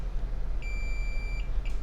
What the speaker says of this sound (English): And I'm getting a beep here at the other connector and a couple of pins near.